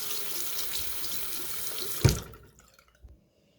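Sonic facial cleansing brush rinsed under a running tap, a steady hiss of water from a faucet that ends with a splash, followed by a few quiet drips.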